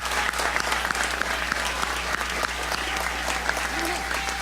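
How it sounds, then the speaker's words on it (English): An audience gives a round of applause, with dense, steady clapping that continues loudly throughout. "So if we can give Brian a round of applause."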